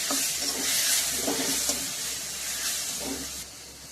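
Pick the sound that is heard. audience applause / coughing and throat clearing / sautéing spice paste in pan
sautéing spice paste in pan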